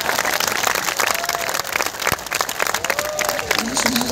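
Audience applause at a large religious anniversary gathering in Probolinggo, sustained loud clapping from a crowd with scattered voices and cheers mixed in, continuing throughout.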